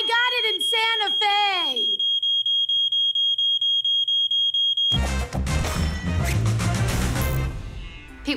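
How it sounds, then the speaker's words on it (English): A defective smoke detector sounds a rapid series of high, piercing electronic beeps in a steady rhythm after voices shout, and then a loud crash and clatter break in. "It's a defective detector!"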